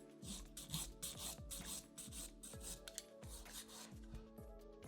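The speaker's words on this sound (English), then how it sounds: "Make sure not to overfile." A nail file rasps across a fingernail during a manicure, quick repeated short strokes in an uneven rhythm, close and quiet with no voice.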